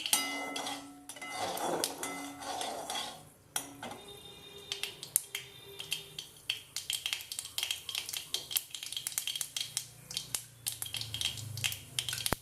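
Chopped onions go into a pan of hot oil with tempering mustard seeds for a Malabar prawn curry, followed by brisk scraping and clattering of a spoon against the metal pan, close and rhythmic, with no talk.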